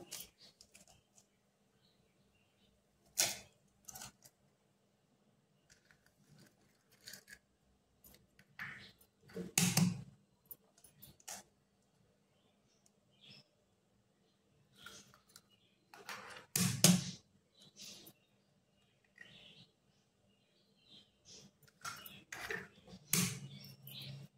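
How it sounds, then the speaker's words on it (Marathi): Eggs are cracked into simmering egg curry in a pot: a handful of sharp, separate cracks and taps, quiet and close, spaced several seconds apart over a faint background, with no talking. "ह्यात आता आपल्याला अंडी फोडून टाकायचे."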